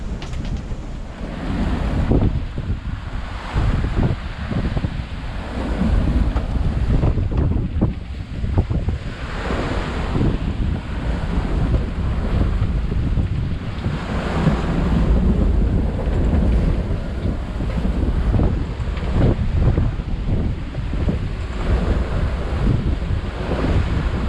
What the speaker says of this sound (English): the wind's gusting up to 25